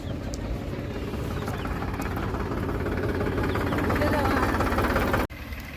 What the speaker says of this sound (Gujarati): આ બે ટ્રેક્ટરો આવી ગયા.